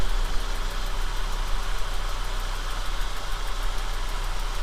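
An Audi 80 engine runs at a steady idle, a constant low rumble with a dense hiss, close and even for the whole stretch, no talking.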